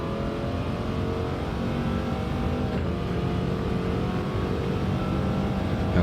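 A race car in Gran Turismo 7 powers hard around the Monza circuit, its engine holding a loud, steady roar with layered harmonics for the whole stretch, no voices over it.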